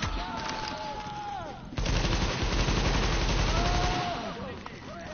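Rapid gunfire bursts from The Division video game crackle in dense volleys, loud and close, with a pause and then another sustained stretch of shooting.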